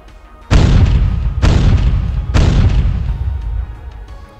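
Three heavy battleship gun salvos boom in the naval combat game Naval Art, evenly spaced about a second apart, each a loud deep blast with a rumbling tail, and no voices over them.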